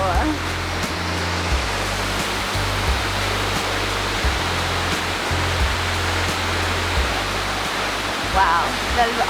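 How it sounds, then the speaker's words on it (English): A waterfall in Bali roars as a steady, loud, broadband wash of falling water, with a low rumble running underneath and brief exclamations from people nearby. "It's a really nice waterfall."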